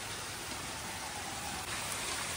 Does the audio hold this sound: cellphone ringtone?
no